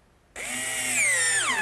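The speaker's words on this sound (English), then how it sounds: "I'm using screws, being sure to pre-drill some holes." A power drill bores pilot holes in oak: a loud, steady motor whine starts suddenly, holds under load, then dips in pitch near the end, with no talking.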